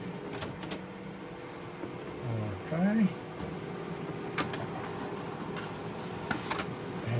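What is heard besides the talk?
home printer printing double-sided card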